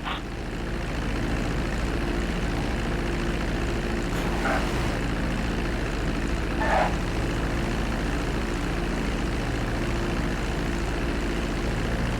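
A propeller airplane in GTA 5 comes in to land and taxis, giving a steady loud engine drone with a low hum throughout and a couple of brief faint clicks, with no talking.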